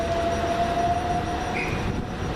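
A Southern Railway class 377 electric passenger train on the Portsmouth Harbour to London Victoria service gives off a steady, loud rumble with a thin whining tone, heard close by without talk.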